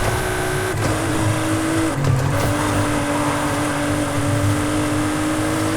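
A Nissan Fairlady 350Z sports car takes a curve, its engine a steady, close, continuous drone with a faint rising tone and no pause across the whole stretch.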